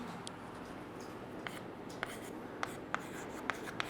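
Faint scratching and tapping of writing on a board during a chemistry lesson, soft strokes with several sharper taps spaced about half a second apart against a quiet room hiss.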